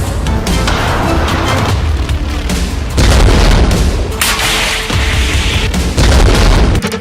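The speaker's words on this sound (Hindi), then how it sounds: "देखिए अटैक हुआ किस मिसाइल से। ये है अलमास मिसाइल जो ईरान ने बनाई और फिर हिजबुल्लाह को सप्लाई की है" Iranian-made Almas missiles from a Hezbollah attack strike Israel in a loud run of heavy booms and crackling bursts, overlapping and repeating in close succession.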